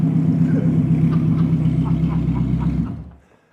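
Koenigsegg Jesko engine held against a 4,000 rpm rev limiter, a loud steady low rumble with a faint pulsing edge that holds for about three seconds, then cuts out and drops away.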